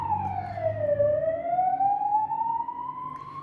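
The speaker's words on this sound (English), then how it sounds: "that was a confirmation with the ambulance driving through here" An ambulance siren drives past, its loud wail sweeping down in pitch and then climbing steadily again over a low road rumble, with no talking.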